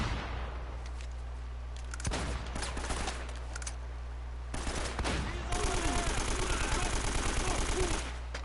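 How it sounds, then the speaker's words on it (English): Shotgun fire in the video game Uncharted: Drake's Fortune: several sharp, booming blasts ring out in quick bursts, with a dense volley of gunfire near the end. "the shotgun's really gratifying"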